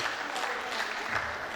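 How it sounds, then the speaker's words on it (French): An audience applauds pageant candidates at a Prodige Haut de France queen election, steady, full clapping from many hands that runs unbroken through the short stretch. "je pense qu'on peut déjà toutes les applaudir"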